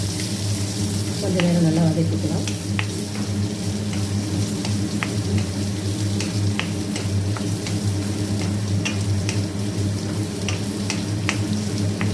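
Onions sauté in a pan over a low flame, giving a steady, close sizzle throughout, punctuated by frequent light scrapes and taps of a spoon as they are stirred.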